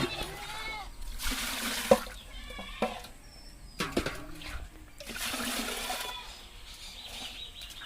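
Water pours and splashes into a pot in a few short bursts, close by, with quiet talking in between.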